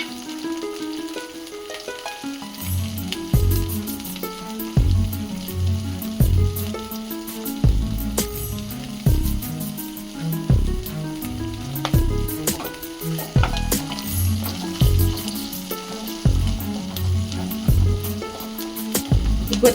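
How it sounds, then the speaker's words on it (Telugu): Green chillies, garlic and coriander stems sizzle steadily in oil while a spoon stirs and scrapes the pan in a busy rhythm, close and loud for the whole stretch, with no talking. "పచ్చిమిర్చి వెల్లుల్లి కొద్దిసేపు ఫ్రై అయిన తర్వాత ఇందులోనే కొత్తిమీర కాడలు కూడా వేసి ఫ్రై చేసుకోవాలి."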